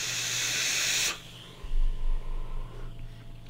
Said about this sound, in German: Vom Geräusch her ist er so leicht im zischenden Bereich.